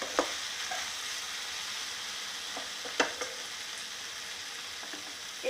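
Okra frying in a pan with a steady sizzle, broken by a few sharp scrapes and clicks of stirring, close and moderately quiet with no talk.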